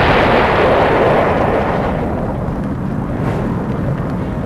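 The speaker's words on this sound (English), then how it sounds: "Liquid petroleum gas blevies also have tremendous force, which can turn exploding tanks into airborne missiles." A liquid petroleum gas tank bursting in a BLEVE explosion unleashes a loud, sustained roaring blast that rumbles on without a break, heavy and close.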